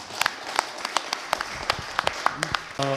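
Scattered applause from a small forum audience at an Incheon arts federation discussion, sparse individual claps sounding over a quiet room, ending as a voice begins speaking.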